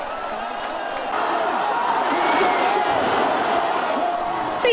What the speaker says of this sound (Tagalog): Ang ilang minuto ng walang humpay na hiyawan at palakpakan sa San Andres Sports Complex